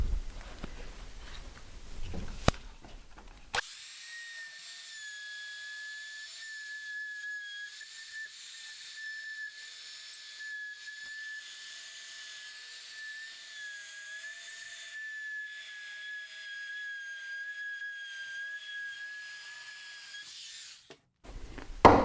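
A rotary tool plunges into drywall with a steady high-pitched whine that holds for roughly seventeen seconds, wavering slightly as it cuts, preceded and followed by brief handling noise.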